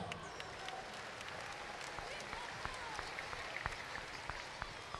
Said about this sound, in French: je souhaite qu'on applaudisse très fort pour Nestlé Nido